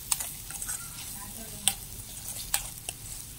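Ginger frying in a pan over a wood-fired stove as it is stirred, a continuous crackling sizzle broken by a few sharp scrapes and clinks of the spoon, with no talking.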